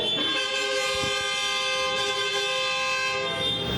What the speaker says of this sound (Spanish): Estamos en guerra de bocinas.